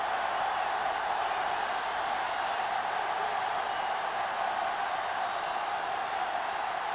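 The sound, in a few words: stadium crowd in a video game football match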